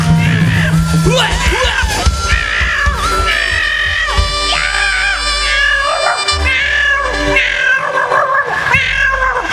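A man imitates a cat with loud, drawn-out meows and yowls, a string of wavering calls repeated over several seconds at a comedy performance in Jombang, with crowd noise faintly behind.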